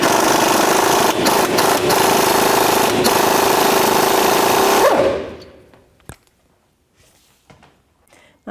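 Impact wrench on a 21mm socket spinning off a tie rod end nut on a 1997-04 Dodge Dakota, a loud continuous buzzing rattle for about five seconds, then winding down to quiet clinks.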